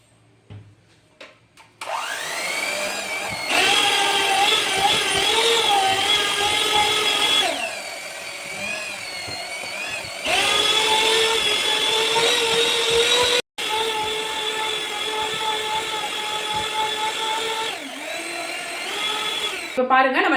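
An electric beater whirs through paneer tikka pizza dough as oil is poured in bit by bit, giving a loud, steady motor whine that breaks off briefly a few times.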